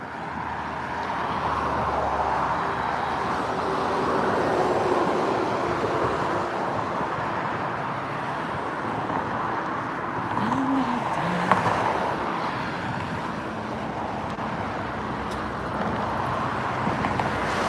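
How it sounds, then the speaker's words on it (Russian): Cars drive along a city street in Kaliningrad while rail joints clatter underfoot, a continuous rumbling traffic roar with occasional clunks and a slight swell midway. "Слышно, наверное, да, машины ездят и стыки. Стыки шумят."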